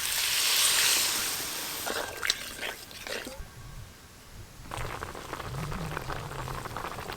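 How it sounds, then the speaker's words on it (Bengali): Rui fish curry broth with cauliflower, poppy seed paste, slit green chillies and water bubbling in a pot on a village-style stove: a steady hissing simmer that is loudest at first, with a few soft knocks partway through. "ঝোল বেশ ভালোভাবেই ফুটে গেছে"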